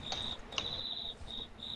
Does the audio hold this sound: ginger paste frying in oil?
no